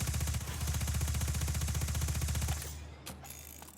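Rapid automatic weapon fire in Destiny 2, a fast steady burst of shots lasting a couple of seconds, then stopping with a few clicks and mechanical handling noises of a reload.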